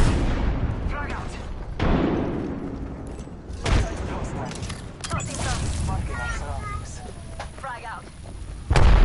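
A frag grenade bursts in a video game with heavy, booming blasts amid rumbling gunfire-like noise, while voices talk over the loud, dense action.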